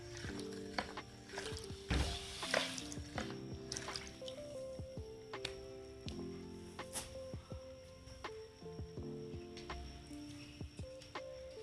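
A homemade jelly-style toilet cleaner mixture is stirred by hand in a quiet room, giving soft irregular knocks, scrapes and faint wet clicks spread across the stretch.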